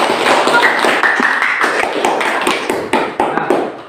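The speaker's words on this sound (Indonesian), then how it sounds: "Tepuk tangan untuk kelompok 1" A classroom of students gives group 1 a round of applause, a dense, steady patter of many hands clapping together for several seconds, fairly close and loud, with no talking over it.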